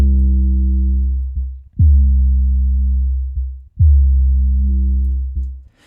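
An 808 sub bass made in GarageBand and EQ'd to cut the highs plays three long, deep booming notes, each starting with a short pitch drop and sustaining alone.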